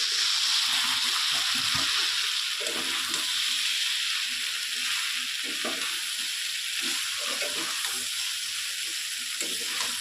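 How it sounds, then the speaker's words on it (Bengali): Maggi noodles and vegetables sizzle and crackle in hot oil in a pan, stirred steadily with a spatula, a close, continuous frying hiss with soft scraping throughout. "সবজিগুলো কখনো হয়ে গেছে আর ম্যাগিটাও তেলে ভাজা হয়ে গেছে"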